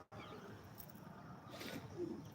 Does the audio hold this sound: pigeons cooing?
yes